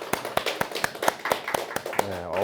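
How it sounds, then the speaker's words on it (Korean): A small indoor audience at a church training session claps in a brief, sparse round of applause, about a dozen distinct claps in a loose rhythm, with some murmuring under it. "우리 박수 한번 주세요"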